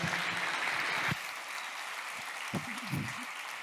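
A church congregation gives a short burst of applause praising the Lord, and it drops away after about a second. Scattered faint voices and small noises follow.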